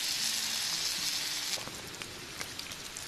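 Cauliflower mushrooms hit a hot pan for a stir fry with noodles, giving a bright, even sizzle that starts strong and eases off slightly, with a few small crackles and pops near the end.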